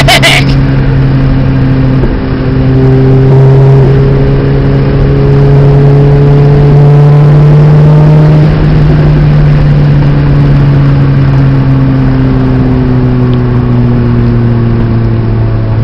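A 2005 Lotus Elise sports car engine roars loudly up close, its pitch climbing as it accelerates and then settling into a sustained drone.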